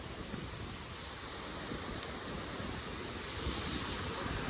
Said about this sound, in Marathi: बघ लाटा बघा.